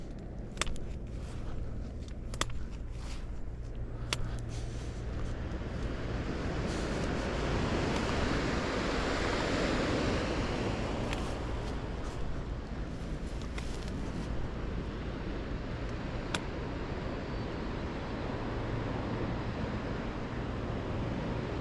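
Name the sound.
waves coming in on the shore below a bluff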